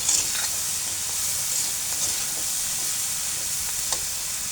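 Vegetables for noodles are stirred in a frying pan, giving a steady hiss of sizzling oil with a few soft scraping clicks of the spatula scattered throughout.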